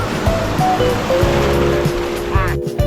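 Ocean surf rushes at Ngwe Saung beach as a steady broad wash of waves, loud and close, with engine-like hums and a voice underneath.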